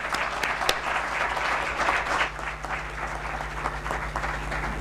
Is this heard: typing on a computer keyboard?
no